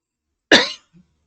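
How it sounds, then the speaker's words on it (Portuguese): One short, sharp cough close to the mic, followed by a faint little throat sound, otherwise silence. "Eu posso parar um pouquinho para tossir?"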